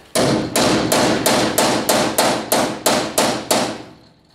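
A hammer strikes a small metal chisel to knock off a head while restoring a Panhard Dyna X12 cabriolet: ten loud, evenly spaced ringing blows close by, the last fading out.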